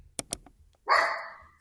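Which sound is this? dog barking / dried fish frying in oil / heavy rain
dog barking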